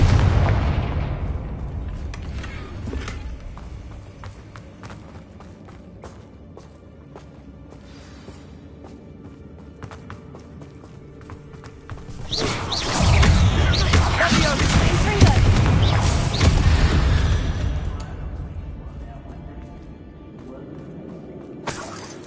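Hogwarts Legacy's Confringo fire spell goes off as a loud, dense explosive burst with crackling debris. It rises sharply, holds for several seconds and then fades, following quieter game noise and layered over the in-game soundscape.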